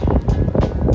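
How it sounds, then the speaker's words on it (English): Strong gusting wind at the Observation Point summit in Zion National Park, buffeting loudly and unevenly in close rushes with no talking. "it is crazy windy here"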